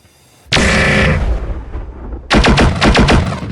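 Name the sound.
autocannon firing in BattleTech video game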